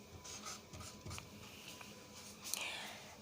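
Pen or marker handwriting the word "notice" in capital letters on paper, a run of soft, faint scratchy strokes with short pauses between letters, quiet and close, with no talking.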